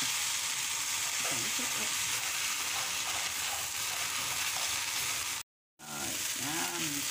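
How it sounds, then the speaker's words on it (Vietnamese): Rice noodles stir-fried in a hot pan give a steady loud sizzle with stirring scrapes throughout, broken by a brief silent gap near the end, and a voice speaks briefly. "Các món xào này thì mình càng trộn đều nó càng ngon, càng thấm đầy đủ gia vị"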